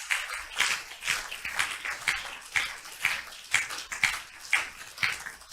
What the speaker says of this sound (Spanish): Denle el aplauso a Jesús.